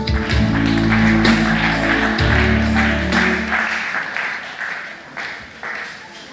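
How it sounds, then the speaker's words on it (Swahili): Congregation applauding for Jesus at a church service, a dense burst of clapping that swells at first then gradually fades, with music sounding underneath. "Makofi kwa Yesu."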